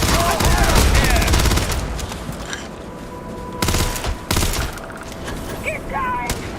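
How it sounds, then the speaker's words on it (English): Bursts of rapid gunfire in the sci-fi video game Starfield, loud and close, with dense volleys and brief pauses between them. "Opening fire!"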